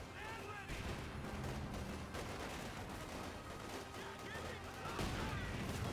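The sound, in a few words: gunfire and machine gun in video game Company of Heroes 2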